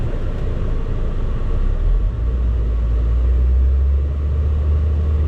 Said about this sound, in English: We'll give it a couple revs up to 2500.